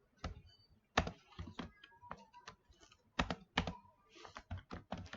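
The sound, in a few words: typing on a computer keyboard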